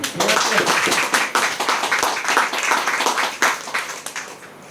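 A crowd claps briskly for a few seconds, a dense burst of many hands that gradually thins out toward the end.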